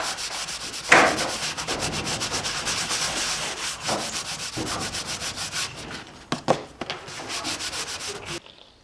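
Hand buffing of a Buff-it patina finish, a steady close rubbing and sanding-like scrub in continuous back-and-forth strokes, with a few sharper scrapes near the end before it stops.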